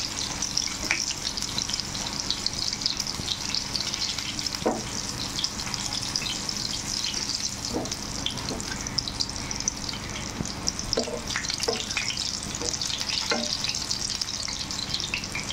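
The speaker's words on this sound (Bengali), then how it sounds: "ঠিক এইভাবে লাল লাল করে ভেজে নিতে হবে" Dried fish fritters wrapped in ash gourd leaves fry in hot oil with a steady, dense sizzle that runs unbroken throughout, broken now and then by soft clicks and scrapes as the pieces are turned.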